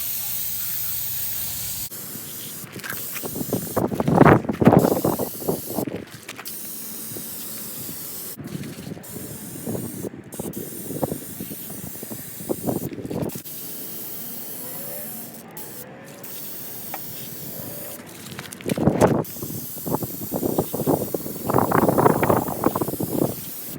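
Spray paint hisses from a can onto a Hi-Lift jack mount for a Jeep XJ in several separate bursts of a few seconds each, close and fairly loud, with quieter gaps between.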